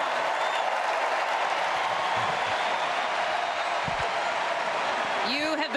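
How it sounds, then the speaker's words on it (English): Big applause from a crowd filling the United Center arena, a steady dense roar of clapping and cheers that holds throughout at full strength. "getting big applause from inside the room here at the United Center"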